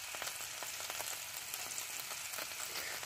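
Steady sizzle of bacon, woodcock and an egg frying together in a pan, constant and close with no voices.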